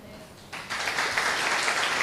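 An audience breaks into applause after a quiet pause, the clapping swelling quickly and holding steady as a moderate crowd.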